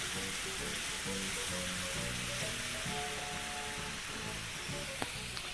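Water sizzles and hisses in a hot pan as it loosens tomato paste for one-pot spaghetti. A steady close frying crackle runs throughout, with faint stirring clinks near the end.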